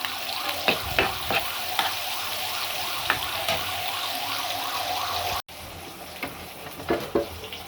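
Onions frying in a pan for a Bangladeshi onion-stalk bhaji, a continuous hissing sizzle with occasional sharper crackles and scraping stirs, steady and close throughout.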